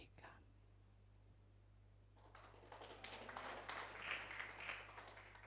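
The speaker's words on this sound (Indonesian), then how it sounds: "Kok tepuk tangannya begitu?" A congregation at a church gathering in Indonesia claps faintly and unevenly, the scattered patter starting after a quiet pause and continuing to the end at a distance.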